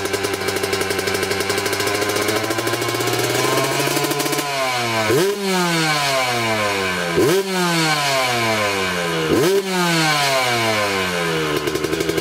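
A Yamaha YZ125 two-stroke motocross motorcycle engine, around 35.7 hp, idles with a raspy crackle and is then revved hard three times in quick succession, each rev peaking and falling back, loud and close with no talking.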